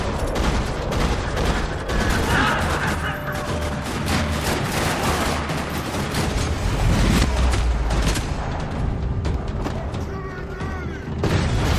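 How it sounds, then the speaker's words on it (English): In Max Payne 3, a parking-lot gunfight fills the scene with dense, continuous gunfire and rattling shots. Loud crashes and booms pile up throughout, with no pauses. "Another parking lot rattling with gunfire."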